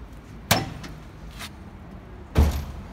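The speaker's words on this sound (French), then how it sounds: "Faut claquer fort la porte." Two solid thumps of an old BMW's car door shutting, one early and one about two seconds later, with a soft click in between against quiet background.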